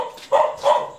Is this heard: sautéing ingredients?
no